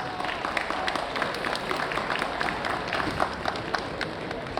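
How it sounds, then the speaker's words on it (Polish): Audience applauding the president of PZU at a hockey club sponsorship event for Podhale Nowy Targ, steady dense clapping filling the whole stretch with a faint voice underneath. "Wielkie brawa, poproszę jeszcze raz dla Pani Prezes."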